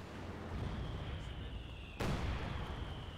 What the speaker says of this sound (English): the 120mm mortar is doing some heavy work there